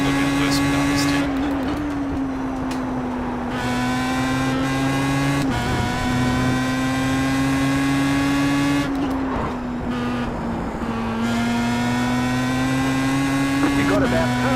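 A Pro Mazda race car engine in a racing simulator at Watkins Glen drones loudly and continuously, with pitch dips at several gear shifts. Someone talks over it throughout.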